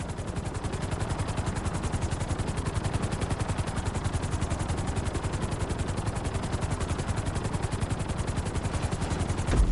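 A helicopter in a story-mode video game settles onto a landing pad, its rotor beating in a fast, steady, loud chop throughout, heard alone without talking.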